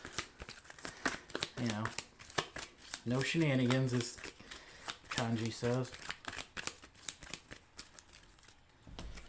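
A deck of Power Rangers: Heroes of the Grid board game cards is shuffled with quick, papery riffles and crinkles, close by and continuous, while someone talks over it.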